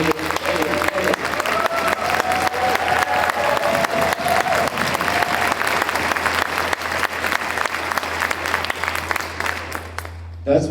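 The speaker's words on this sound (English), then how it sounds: "Give them a round of applause." Audience applause after youth orchestra concerto competition soloists perform at a concert, sustained steady clapping from a large crowd for about ten seconds, ending abruptly with a brief burst at the close.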